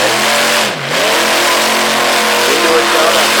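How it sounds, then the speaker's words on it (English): Truck-pulling engine at a Durham, Connecticut pulling event, revving loud and rough as the truck digs into the track, with a brief dip and recovery in pitch midway; a backfire may be buried in the roar. "You hear that backfire."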